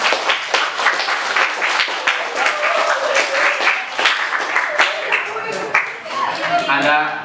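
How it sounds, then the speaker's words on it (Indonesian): A classroom group receives applause, a burst of fairly close clapping from a small crowd, uneven and lively, with voices chattering underneath. "Tepuk tangan dong buat kelompok."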